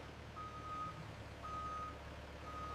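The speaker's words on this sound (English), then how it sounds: "Heads up, truck's pulling into Bay 3." A truck reverses into a loading bay at a wool processing facility, its reversing alarm sounding three evenly spaced steady beeps over a low engine rumble and background hum.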